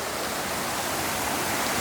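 Water rushes steadily beside a campsite in Tasmania, a constant loud broadband roar like a stream or small waterfall close by, with no voices.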